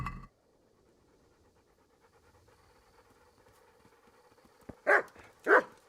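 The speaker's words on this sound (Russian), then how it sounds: "Во, наконец-то. Гавкала." Dog in the video game Kingdom Come: Deliverance gives two loud close barks near the end, after soft panting and faint background ambience.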